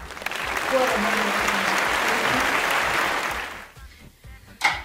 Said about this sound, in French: donc on applaudit très fort Donna